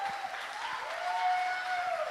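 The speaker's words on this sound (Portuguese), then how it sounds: "vamos recebê-lo com aplausos e muita alegria." Church congregation applauding a young preacher, a soft, steady patter of clapping from a room-filling crowd, with a faint sustained tone running underneath.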